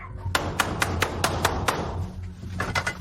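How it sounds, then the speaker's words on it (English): A wooden door knocker raps on a front door in a run of six quick, crisp knocks, followed by a few softer taps after a short pause, with a low room hum beneath. "Door knocker. Wooden door knocker."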